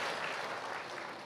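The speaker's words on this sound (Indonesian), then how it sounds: "Wah, tepuk tangan dong buat Tuhan." Congregation applauding during a church sermon, a dense, steady wash of clapping that stays loud and even for its full length with no talk over it.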